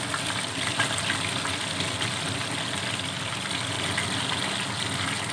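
Gola kebabs fry in a frying pan, giving off a steady, dense sizzle that carries on without a break throughout, close and moderately loud, with no talking.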